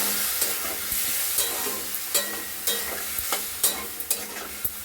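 Spice masala with mustard paste and ginger being stirred and fried in a pan, a soft continuous sizzle broken by repeated sharp scrapes of the spoon at an uneven rhythm, close up and without talk.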